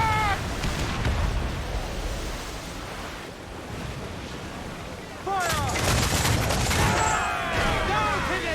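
Ship cannons fire in the Assassin's Creed IV Black Flag pirate naval battle, heavy booms and surf-like roar over ocean waves and wind, with a loud burst of blasts in the later half and faint shouting underneath.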